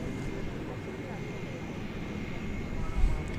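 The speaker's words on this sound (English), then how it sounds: "American 1487 going to Seattle. It's an Airbus A321." An American Airlines Airbus A321 jet airliner at DFW Airport at night, a steady distant engine roar holding level throughout, with a brief thump near the end.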